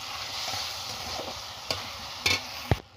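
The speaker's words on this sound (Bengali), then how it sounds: "এবার এর মধ্যে দেবো পরিমাণ মতো চিনি আর ধুয়ে রাখা খেজুর, সব একসাথে আমি মিশিয়ে নেব।" Tomato, sugar and date chutney being stirred in a pan, a soft bubbling simmer with a few sharp scrapes and clinks of the spoon near the end.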